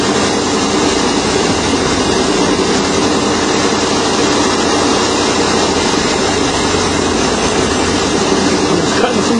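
A van engine idling under a steady hand throttle that lifts the revs slightly, a continuous dense rumble with a broadband roar, loud and close, with no voices.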